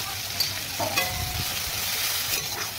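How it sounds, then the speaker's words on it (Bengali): Tomato fries with spice paste in a pan, giving a close, steady sizzle broken by brief stirring scrapes, with no talking. "টমেটোকে মশলার সাথে এবার আমি ভাজবো"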